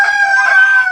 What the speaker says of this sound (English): Bam's chasing the other chicken.